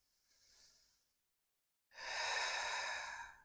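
A slow yoga breath during sun salutation, a soft faint inhale followed by a pause and then a longer, louder breathy exhale, heard alone.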